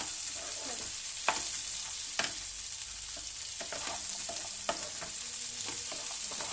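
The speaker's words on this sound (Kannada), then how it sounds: "ಇದನ್ನೆಲ್ಲ ಒಂದು ಸ್ವಲ್ಪ ಎಣ್ಣೆಯಲ್ಲಿ ಫ್ರೈ ಮಾಡ್ಕೊಳ್ಳೋಣ" Garlic and spices frying in a little oil in a pan for egg curry, a steady soft sizzle with occasional sharp stirring clicks and scrapes, close and alone.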